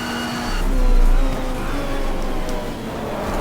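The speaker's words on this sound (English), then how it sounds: "And crashing with the panels." A race car in the GTR2 racing simulator crashing into trackside panels at Road America, a loud steady engine roar swelling briefly as tires scrub and the car scrapes along the barrier, with no speech.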